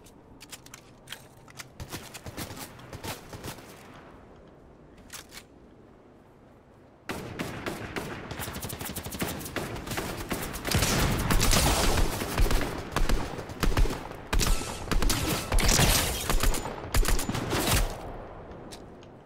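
Fortnite gunfire: scattered sharp shots at first, then after a brief pause a dense stretch of rapid automatic fire and crackling impacts, growing louder and nearly continuous toward the end, with no speech.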